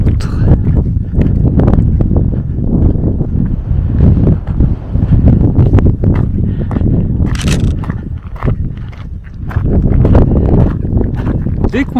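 Steady wind buffets the microphone with a low, continuous rumble, punctuated by scattered crunches and knocks, loud and close throughout.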